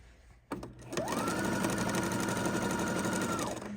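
Sewing machine stitching quilt blocks, starting with a click and then running in a steady, even whir for nearly three seconds, close and alone.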